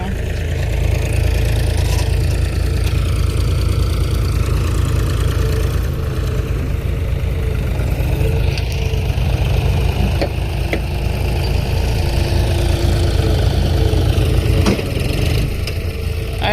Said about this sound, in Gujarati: આનું આ ટ્રેક્ટર જોન્ડિયર છે, કોટડા વાળાનું છે કોકનું